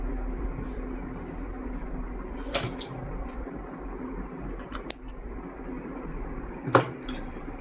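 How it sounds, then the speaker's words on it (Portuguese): Scissors snipping leftover knit suede fabric from a sleeve: a few sparse, crisp cuts close by over a low hum, with no talking. "Vou cortar aqui o que sobrou"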